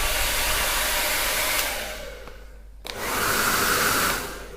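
A Parlux hair dryer fitted with a diffuser blows as a loud, steady broadband rush. Partway through, its roar dips briefly and then surges back to full strength. No one speaks over it.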